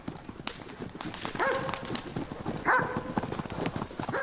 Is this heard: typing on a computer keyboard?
no